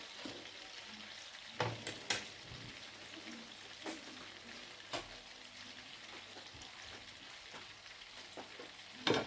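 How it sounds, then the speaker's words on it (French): Steaks fry steadily in a pan, a soft continuous sizzle with a few sharp clinks and pops scattered through, close and moderately quiet, with no talking. "J'ai mis mes steaks à cuire."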